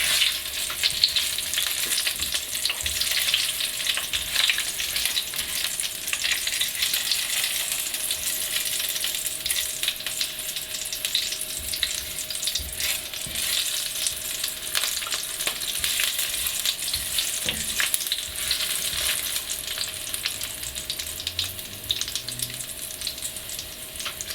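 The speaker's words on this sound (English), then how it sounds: "You're going to let this fry off till your curry leaves have turned a little crisp, and so have your chilies." Curry leaves and chilies frying in hot oil give a loud, dense, continuous crackling sizzle up close, with occasional faint stirring taps beneath and no talking.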